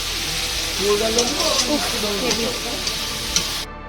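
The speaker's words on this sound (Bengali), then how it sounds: "পমফ্রেট আর ভোলা ভেটকি, চিংড়ি মাছ ভাজা হচ্ছে" Pomfret, bhetki fish and prawns frying in oil, a loud continuous sizzle with stirring scrapes and faint talk in the background.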